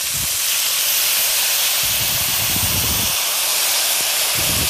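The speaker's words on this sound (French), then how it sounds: "On va déglacer avec du vin rouge." Red wine hits a hot pan of chicken and pork rind for coq au vin, giving a loud, continuous, close-up steamy hiss and sizzle that stays steady throughout with no talking.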